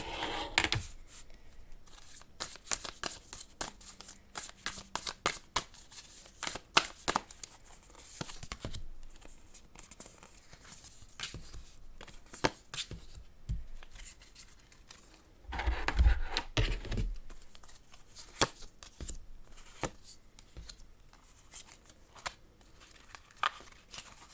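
Tarot cards are handled, shuffled and drawn during a pick-a-card love reading, giving close, steady papery flicks, snaps and rustles with a denser shuffling burst partway through and no talk.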